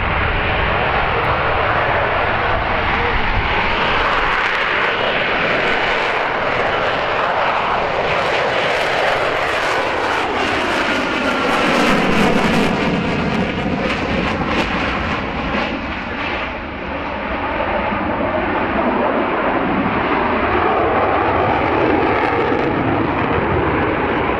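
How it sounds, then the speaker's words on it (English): A military aircraft at the RAF Cosford Airshow 2024 passes with landing gear down, a loud continuous jet roar whose pitch sweeps as it approaches and moves away. "Here you can see the aircraft with its landing configuration, the gears down."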